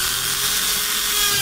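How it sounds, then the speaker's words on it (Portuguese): A power drill bores a hole into a PVC pipe cap, a steady high-pitched whine held without a break for a second and a half, loud and close, with no talk over it. "Vou furar do lado aqui, ó. Dois furos aqui."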